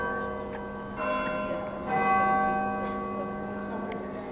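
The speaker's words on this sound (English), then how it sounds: "the bell's ringing just at the right time for me to be filming the bell tower" A church bell in Gloucester rings out in steady, resonant strokes with long humming overtones, heard from a moderate distance without voices.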